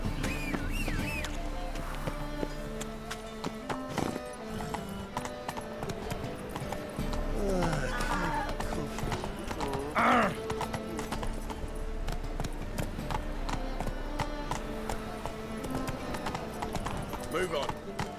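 Geralt's horse Roach trots along in The Witcher game, steady rhythmic hoof clip-clops close by, heard over continuous game music with voices talking at times.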